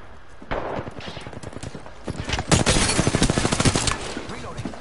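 Rapid automatic gunfire in a video game, a fast rattling burst of close, loud shots that swells midway and runs for several seconds before tapering off.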